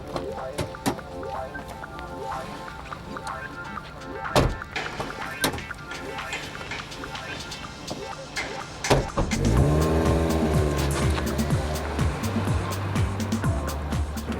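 Mazda MX-5 roadster starting off, with door thunks and handling noises before the engine swells into a steady drive, cabin hum and some talk mixed in.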